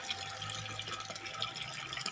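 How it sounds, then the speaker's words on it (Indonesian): Water leaking and dripping from a small solar-powered surface pump, a faint, close trickle with light splashy drips over a low motor hum, steady through the moment. "ini terjadi kebocoran nih sedikit."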